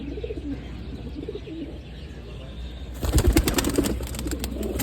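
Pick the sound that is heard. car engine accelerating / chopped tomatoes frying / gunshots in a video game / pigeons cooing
pigeons cooing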